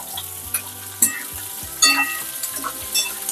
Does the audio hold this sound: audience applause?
no